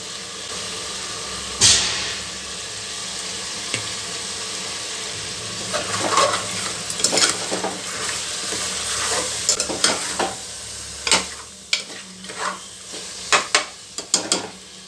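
Chicken being stirred with masala paste in a frying pan for dahi chicken masala, giving a steady sizzle with repeated scraping and clattering stirs, close and alone.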